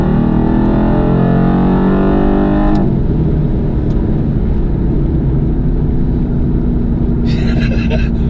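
A 2021 Mercedes-AMG GT R with a twin-turbo V8 tuned to 820 bhp roars loudly and continuously, then its pitch drops sharply after a downshift and keeps a deep, rumbling drone.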